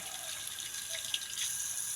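Water streams steadily from a faucet into a resort sink, a soft continuous hiss with a small splash partway through, fairly quiet.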